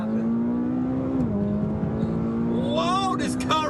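A quick car pulls hard from inside the cabin, its steady engine drone dropping briefly at a gear change, then climbing again as the revs build, with faint voices near the end.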